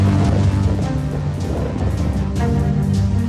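Cyclone Biparjoy lashes the Kutch Mandvi coast of Gujarat with loud, continuous roaring wind and heavy rain. The sound rises and falls slightly but never lets up, and no voices are heard.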